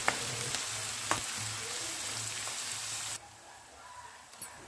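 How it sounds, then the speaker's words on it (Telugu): Green chillies and onions frying in oil in a wok until browned for a chicken curry: a steady, close sizzle with a few light clinks, dropping to a quieter hiss partway through. "పచ్చిమిరకాయలు ఉల్లిపాయలు వేసేసుకున్నాం మూకుట్లోని అవైతే బాగా వేగాక బ్రౌన్ కలర్ వచ్చే వరకు వేపుకుందాం"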